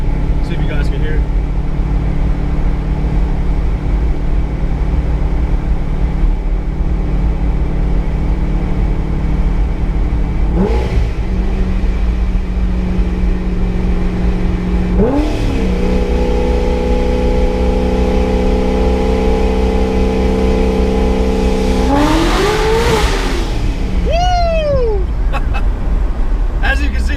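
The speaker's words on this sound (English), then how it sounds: "I'm gonna see if I can floor it under my favorite tunnel over here." A Corvette fitted with a Corsa exhaust under full throttle beneath an overpass, with a loud, steady engine roar and rising revs through the gears, heard from inside the car.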